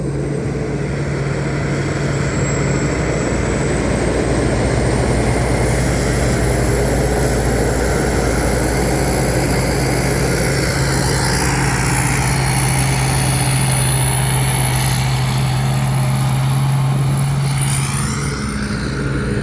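A combine harvester's Hino engine drones steadily and loudly throughout, a constant low rumble with a high whine, no voices.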